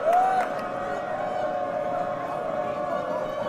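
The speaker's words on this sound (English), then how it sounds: "CLEMENTS fans making a lot of noise trying to distract Cameron Crockett" At a boys' high school basketball game in a fieldhouse, fans keep up a steady crowd roar during a free throw, with a sharp whistle-like shriek at the start and a sustained droning noise underneath.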